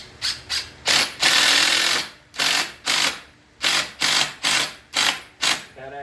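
Power drill driving screws into treated wood while building an outdoor porch chair, with about ten loud, close bursts of whirring, each with a short pause between them.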